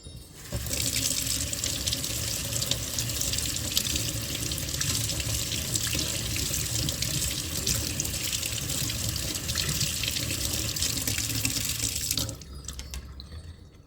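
A kitchen tap runs steadily as a paintbrush is rinsed beneath it, a close, continuous hissing splash of water into a sink that stops abruptly near the end.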